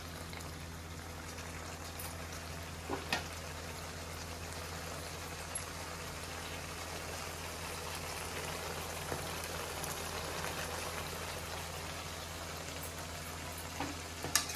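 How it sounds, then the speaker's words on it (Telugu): Mutton boti frying on high heat in a country-style preparation, a continuous dense rain-like sizzle with a few faint clicks scattered over it. "బాగా హైలో పెట్టి ఫ్రై చేద్దాం"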